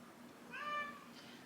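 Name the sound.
cat meowing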